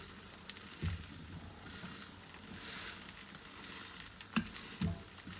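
Garlic cheese bread slices cook in a pan over a slow flame with a soft, steady sizzle. A few brief louder taps and clinks break through near the start and toward the end, and no one speaks.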